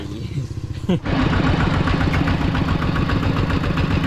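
A brief voice gives way to a tractor engine that rumbles to life and chugs loudly and steadily up close.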